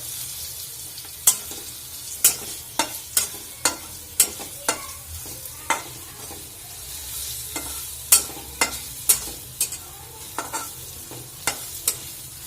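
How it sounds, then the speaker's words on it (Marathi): Spices sautéing in oil for a rustic Maharashtrian ridge gourd (dodka) curry, with a spoon stirring and scraping the pan in repeated sharp clacks over a low, steady sizzle. No one speaks. "तुम्ही बघू शकता मस्त असं तेलात आपले मसाले छान असे परतलेत"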